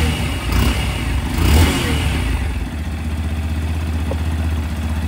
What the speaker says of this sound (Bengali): এবার শুনুন ইঞ্জিনের সাউন্ড।